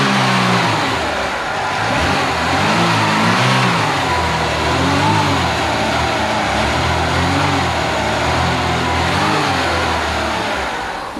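A warmed-up Volvo 340 engine revs steadily, close and loud, its pitch rising and falling in repeated surges for about eleven seconds with no talk over it.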